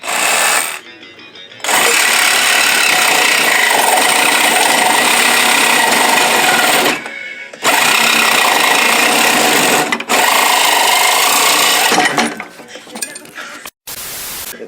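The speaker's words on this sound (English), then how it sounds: "We have a whole sawzall here." A Sawzall reciprocating saw cuts metal on a pit bike, roaring loud and close in long sustained buzzing bursts broken by short pauses as the blade stops and restarts.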